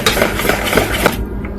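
Carrot bhajia batter being stirred in a bowl, a steady run of clinking utensil-on-bowl scrapes and taps with a few sharper knocks, close and fairly loud, then a brief quieter tail.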